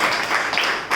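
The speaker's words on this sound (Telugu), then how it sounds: "గట్టిగా చప్పట్లు కొడుతూ" Church congregation applauding loudly at a New Year 2022 service, a dense, steady wash of many hands clapping close by that stays at full volume for about a second and surges again at the end.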